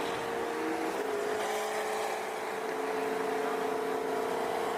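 C6 Corvette ZR1 engine revving, a faint, somewhat distant rising whine and rumble that climbs and holds, with no voices in it.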